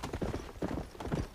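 In the video game Red Dead Redemption, a horse gallops with a quick, rolling three-beat clatter of hooves on dirt, heard close and fairly soft over a short burst.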